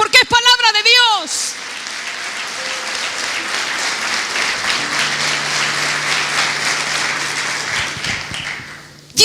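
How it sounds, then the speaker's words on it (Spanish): Church congregation at an evangelical service applauding loudly, a dense, sustained wash of clapping that rises just after a brief spoken voice at the start and carries on for several seconds before trailing off. "Y si va a aplaudir, aplauda fuerte porque es palabra de Dios."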